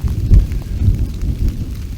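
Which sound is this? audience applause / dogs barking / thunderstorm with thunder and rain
thunderstorm with thunder and rain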